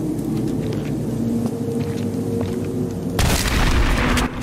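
In the survival horror game Them And Us, a single heavy shotgun blast bursts out loud and close, cutting through a low ambient drone and leaving a brief booming tail.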